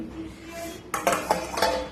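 Metal bowls of cooked food being covered and set down in a home kitchen: a few sharp clinks and clatters in quick succession after a quiet start, close by.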